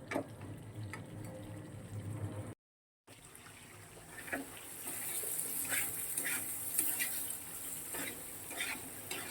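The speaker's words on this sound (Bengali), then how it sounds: "চলো আর একটু সময় নিয়ে জিরেটা কষিয়ে নেব।" Cumin paste frying in a pan for a vegetable curry, a faint, steady sizzle with occasional light ticks and stirring scrapes, heard quietly and close with no talk over it.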